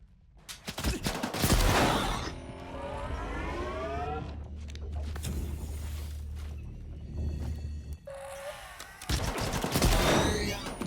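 A Gauss rifle in the S.T.A.L.K.E.R. 2: Heart of Chornobyl shooter fires in loud bursts amid gunfire and rising, whining electronic tones, with sections of droning noise between shots and a voice briefly talking.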